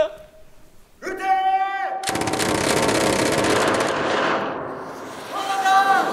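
Staged gunfire sound effect in a theatre play: after a brief shouted voice, a dense burst of rapid shots erupts, sustained and loud for several seconds before fading under a returning voice.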